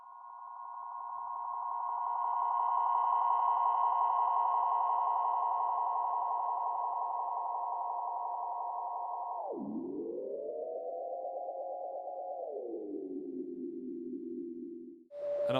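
Sustained synth sample loop in Ableton Live, a steady held tone that later bends and drops in pitch, washed in reverb and ping-pong delay echoes, loud and continuous with no voices.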